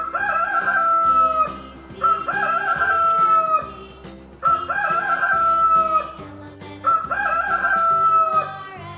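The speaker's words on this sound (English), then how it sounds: "H for hen" A rooster crows in repeated loud, close calls, each long wavering cry separated by brief gaps, with a hen clucking among them and no voices.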